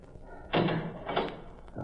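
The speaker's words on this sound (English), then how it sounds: "I'll close this door" A door closing in a radio drama: a soft swoosh and thud, then a second muffled bump and latch sound shortly after, close and moderately loud.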